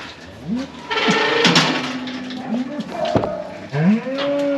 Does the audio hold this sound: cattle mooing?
yes